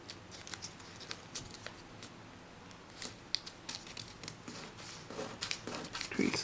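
Origami paper being creased and unfolded while folding a book and bookshelf model, a faint, close crinkling and rustling with scattered crisp snaps and scraping strokes of the paper.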